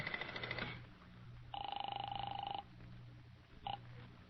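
A telephone call being placed to a hotel: two bursts of electronic ringing, one long and one short, heard over a low steady hum with no talk.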